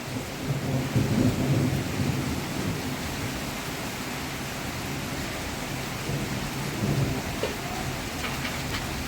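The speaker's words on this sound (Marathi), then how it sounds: "अत्यंत जोरात पाऊस पडत आहे" Heavy rain pours steadily with a dense, continuous roar during a windy thunderstorm in Solapur district, India, with low rumbles of thunder swelling now and then beneath it.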